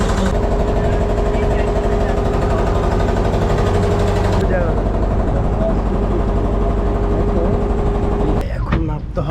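Steady loud drone of a tour boat engine on the Mekong River in Vietnam, running continuously and close, with a brief rattle near the end.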